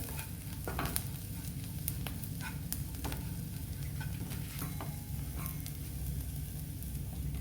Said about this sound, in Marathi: आपण जे ते सर्व हलवून घेणार आहोत